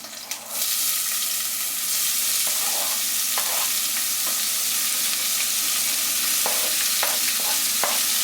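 Chopped onion hits hot oil with curry leaves for yellow split pea daal, a loud steady close sizzle that starts abruptly and carries on with a few soft stirring knocks.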